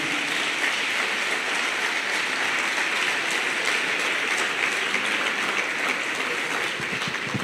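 Steady applause from a church congregation at a founding general assembly of the O Brasil para Cristo church, a continuous, fairly distant wash of many hands clapping.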